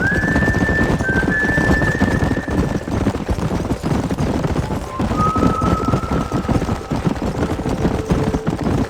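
Horses gallop across open country in Red Dead Redemption, a continuous hoof rumble under a running engine-like drone, with a few faint whinnies and no clear talk.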